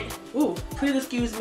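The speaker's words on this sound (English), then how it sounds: "that is my dog. I think that he's ready to go for a walk." A dog lets out a few short, close barks while a person speaks.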